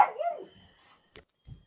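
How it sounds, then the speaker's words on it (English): A dog gives a short, close whining bark followed by two quieter, clipped yips after brief pauses, heard in an indoor crafting room. "I am so sorry about the dog"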